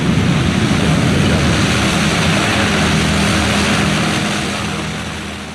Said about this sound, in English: I've never quite felt the ground shake like that while filming an airliner taking off.